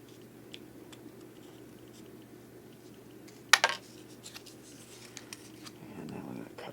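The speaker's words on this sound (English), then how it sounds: "Cut it with the scissors." A single sharp snip as scissors cut through the edge of a metal aircraft landing light housing, brief and close, followed by a few faint clicks over quiet background.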